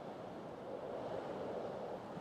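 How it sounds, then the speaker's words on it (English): Steady outdoor wind rushing and roaring around a person in an exposed, windy spot, a faint continuous whoosh with no speech. "I don't know if you can hear the wind howling around me."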